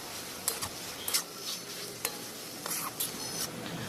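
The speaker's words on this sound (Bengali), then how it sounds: "শাকটি ভালো করে ভাজা হয়ে গেলে ওই আগের থেকে বেটে রাখা মশলাটি এখানে দিয়ে দিল" Dheki greens being stirred and fried with a ground mustard-sesame spice paste, with a steady soft sizzle broken by several sharp scraping strokes of the spatula in the pan, close by.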